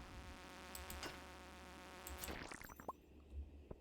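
Insect-like buzzing of flies inside the mine in the video game Stardew Valley, a steady drone running through most of the moment, joined by scattered sharper game effects toward the end.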